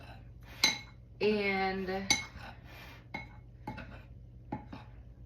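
A utensil clinks and scrapes against a bowl while a baking mixture is stirred, sharp irregular taps close by, with a brief spoken word and a short tonal hum in the middle.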